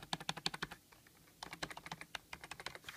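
Typing on a Razer Deathstalker Expert keyboard: close, crisp keystrokes clatter in quick bursts, a short pause splitting two flurries of rapid taps, fairly quiet with no talk.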